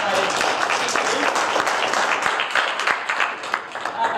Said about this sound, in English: Give a round of applause one more time for our excited speakers.